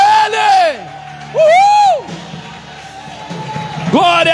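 A church congregation lets out loud bursts of whooping and shouting praise, rising and falling in waves with a crowd murmur between them and a fresh surge of cheers at the end.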